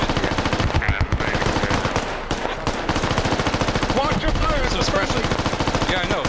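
Squad video game firefight with long, loud bursts of rapid machine gun fire hammering in a fast steady rhythm, broken by brief gaps and scattered distant shots, while players talk over it.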